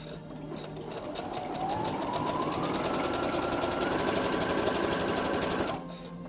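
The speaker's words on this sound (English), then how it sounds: "And then you're going to let the pressure foot back down and continue sewing." Sewing machine stitching a stretchy fabric headband for a child, running steadily and close for several seconds as its motor pitch climbs and holds, then stopping near the end.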